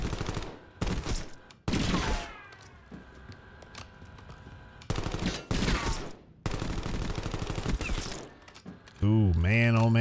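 Bursts of automatic gunfire in a video game, several short loud volleys separated by mechanical clicks and quieter gaps, with a voice speaking near the end.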